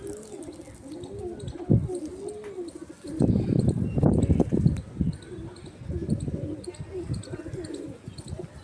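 Soft repeated coos of a Madrasi pigeon, low and rounded, with some rustling and handling noise close by and a louder burst of shuffling in the middle.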